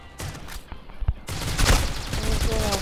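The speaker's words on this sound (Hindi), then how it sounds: "चलो ओई मार दी इसको भी गोली" Gunfire in a shooting video game: a few sharp clicks and shots, then a dense, loud volley of rapid shots close by.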